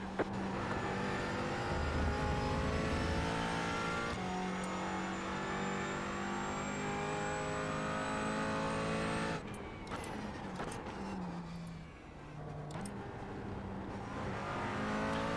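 A McLaren 570S GT4 race car in the iRacing simulator at Hockenheimring screams at high revs, holding a sustained engine tone, then drops through a downshift and climbs again, loud and close with no talk.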